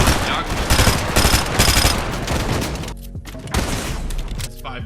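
Dense gunfire from a Fortnite duos match in an FNCS competitive game, loud close bursts of shots and rapid volleys packed together, with a few sharper separate cracks near the end.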